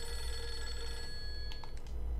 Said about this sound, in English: Now we're answering the phone.